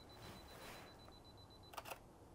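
Canon R6 Mark II shutter firing once as a quick double click near the end, after a faint steady beep from the camera, close and quiet in a calm room.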